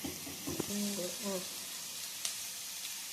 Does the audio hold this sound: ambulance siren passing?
no